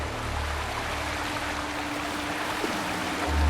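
A waterfall flowing in the game Wuthering Waves, a steady broadband rushing hiss of falling water, continuous and moderately loud with a low rumble swelling near the end.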